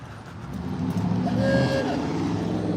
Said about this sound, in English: Whose car did the awooga horn?